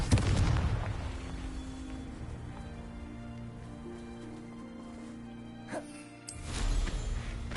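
A Confringo blasting spell in Hogwarts Legacy opens with a loud, booming explosive burst, decays into a low rumbling tail, and ends with a second heavy blast.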